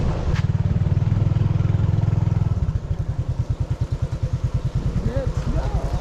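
A motorcycle engine labours at low revs in soft sand, its steady drone breaking into a rapid pulsing chug as the bike bogs down, close and fairly loud.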